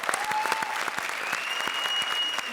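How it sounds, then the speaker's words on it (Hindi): Studio audience at a Hindi comedy show claps loudly and continuously after a stage performance, a close, dense burst of applause with no talking over it. "धमाल परफॉर्मेंस, जोरदार तालियां"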